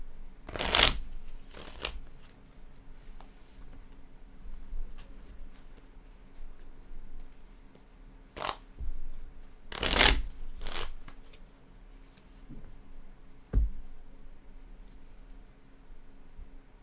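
Playing cards shuffled in several quick bursts of riffling, with quiet gaps between them, close and fairly loud against a faint background hum.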